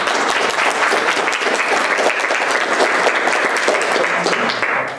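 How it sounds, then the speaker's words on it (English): A seminar audience applauds for about five seconds, a dense, even wash of clapping that fades at the end. "So let's give him a warm round of applause."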